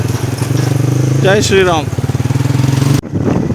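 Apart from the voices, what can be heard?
motorcycle riding on a bumpy road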